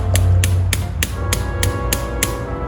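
A hammer taps a plastic light clip seven times in an even, quick rhythm, each strike a sharp, close click over a low background hum.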